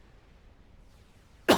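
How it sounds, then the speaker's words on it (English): A sick man coughs once, sharply and close, at the very end after near silence. "And excuse me, everyone, I am going to cough,"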